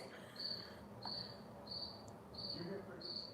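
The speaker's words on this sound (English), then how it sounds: "You hear crickets?" Crickets chirp in regular, evenly spaced bursts, about five trills in quick succession, faint against a quiet background.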